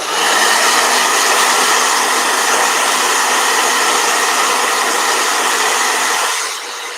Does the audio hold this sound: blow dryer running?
yes